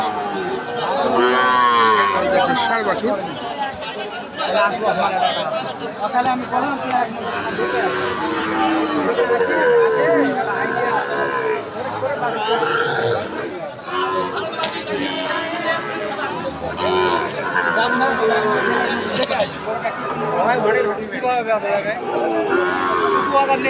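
Sahiwal cattle moo again and again at the crowded Ambari cattle market, the lowing rising over constant chatter and people talking nearby.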